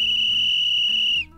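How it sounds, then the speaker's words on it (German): A referee whistle in Minecraft gives one steady, piercing high tone for over a second, then cuts off abruptly. "Also habe ich einfach mal versucht, im Blockbench so eine Schiedsrichterpfeife zu machen."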